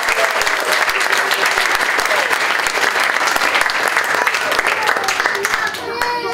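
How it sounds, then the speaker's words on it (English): Guests at a wedding reception burst into loud, close applause, dense hand clapping with some individual sharp claps, sustained for several seconds before tapering off, with scattered voices underneath. "I really think you could do with another round of applause"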